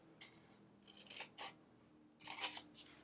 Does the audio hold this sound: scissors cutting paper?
yes